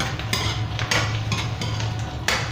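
Onions cook in a pan while a utensil knocks and scrapes against the metal in a few distinct clattering strokes over a low, steady sizzle, close up and with no voices.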